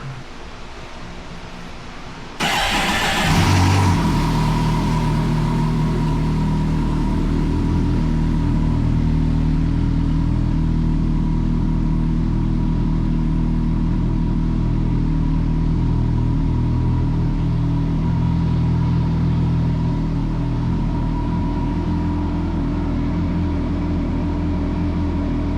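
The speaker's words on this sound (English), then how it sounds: "I'm going to start the bike for you guys so you can hear it with that exhaust and the tune on it." A 2009 Kawasaki Concours 14 motorcycle with an aftermarket exhaust and tune starts with a sudden burst, then settles into a loud, steady, deep idle rumble that holds close by for over twenty seconds with no talk.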